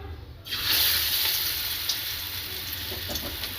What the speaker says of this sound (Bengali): এখানে এবার এইগুলো ভেজে নেব